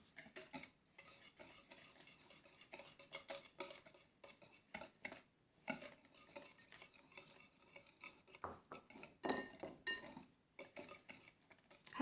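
A utensil stirs ingredients with sugar in a bowl, producing quiet, continuous scraping and clinking strokes with brief pauses, close and faint.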